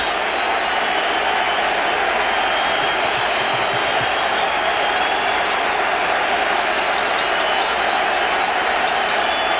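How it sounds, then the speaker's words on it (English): A big Yankee Stadium crowd at a 2003 playoff baseball game roars with sustained cheering and applause, a dense, loud wash of clapping that holds steady throughout. "And the big crowd, many of them have risen to their feet here. So Yankee Stadium has come alive."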